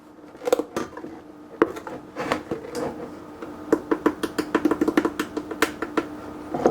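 A scoop clicks and taps repeatedly against a container while protein powder is added to liquid for a tara gum pudding. The sharp, close knocks come irregularly at first, then in a quicker run, with no talking.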